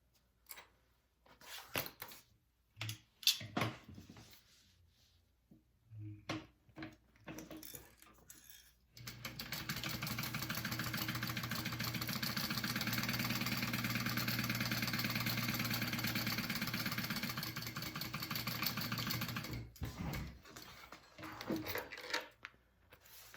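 A sewing machine stitches the top edge of backpack side pocket pieces, placed right sides together with a half-inch seam allowance. About eleven seconds of continuous motor whir sits between bursts of handling clatter and clicks before and after.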